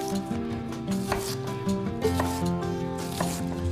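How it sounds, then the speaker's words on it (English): A kitchen knife chops through an onion on a board in a quick run of short, close cutting taps, with no talk. "With the weight of the blade to cut through that onion to get to the base of the root"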